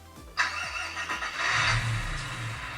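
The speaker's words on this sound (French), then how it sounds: "Donc on va allumer le camion." Tamiya RC flatbed truck switched on, a sharp click followed by a simulated engine start sound that rises into a steady, rumbling idle, close and loud with no talk.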